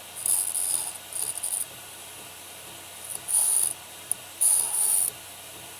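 Short rasping strokes of a sharpening stone touching up a serrated knife edge to take off the burr, coming in three or four brief bursts separated by quiet pauses, close and dry.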